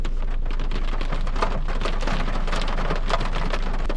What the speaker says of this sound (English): the rain is drowning out the videos